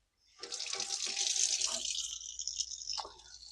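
Tap water runs steadily over hydroponic plant roots being washed off, a close continuous splash that narrows to a thinner trickle near the end.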